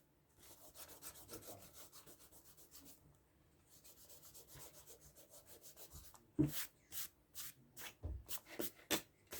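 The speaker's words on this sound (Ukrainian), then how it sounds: "Тепер можна стерти всі ці зайві" Eraser rubbing pencil lines off paper while an anime girl drawing is tidied up, faint soft scrubbing strokes at first, then louder, sharper rhythmic rubs close by.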